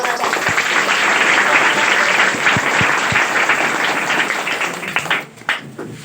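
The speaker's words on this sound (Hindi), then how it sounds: "आप तो जोरदार तालियों से उनका स्वागत कीजिएगा" An audience at a class-10 topper students' event breaks into loud, sustained applause welcoming a student, dense clapping that fades out in the last second.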